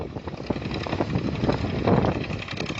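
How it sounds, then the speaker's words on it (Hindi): A tractor runs in a field of pearl millet during sowing, a steady rumbling engine drone with slight pulsing, fairly loud and continuous, no talking over it. "ट्रैक्टर चल रहा है, अंकल जी ट्रैक्टर चला रहे हैं"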